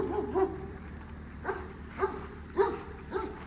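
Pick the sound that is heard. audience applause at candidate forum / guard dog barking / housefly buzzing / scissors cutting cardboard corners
guard dog barking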